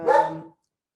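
A single short dog bark rings out close and clear, then silence follows.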